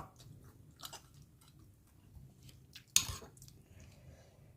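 Quiet, close chewing and soft biting on fresh raw vegetables eaten with liver, with a few faint utensil clinks and one louder clatter of dishes near the end.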